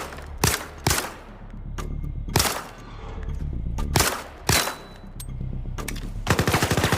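Loud, close bursts of automatic gunfire at a shooting range in the VR game Zero Caliber, with several separate sharp shots followed by a long rapid burst near the end.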